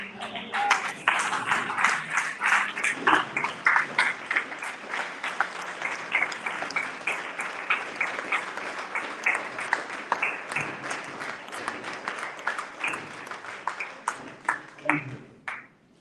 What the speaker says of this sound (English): I think that speech deserves a strong ovation.